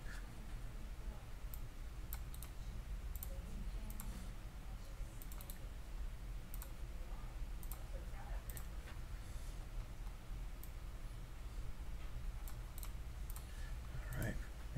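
Someone types on a computer keyboard in quick, irregular bursts of soft clicks that run throughout, with faint speech now and then in the background.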